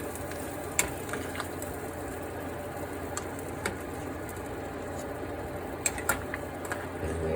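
Onion and bell pepper sizzle in a pot for a beef stew, a steady close frying hiss broken by several sharp clicks and taps of a spoon against the pot as they are stirred.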